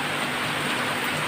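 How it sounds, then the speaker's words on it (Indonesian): Heavy rain pours down in a dense, continuous hiss of drops striking surfaces, loud and close with no voices. "Tapi alhamdulillah masih dikasih hujan"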